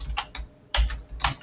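Quick bursts of keystrokes on a computer keyboard while entering a word into an Excel spreadsheet, three short clusters of clicks separated by brief pauses, close and fairly quiet.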